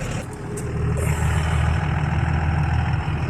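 A Mustang GT clone's engine runs at a steady, close, loud drone with a low rumble throughout, briefly disturbed by a couple of sharp knocks near the start.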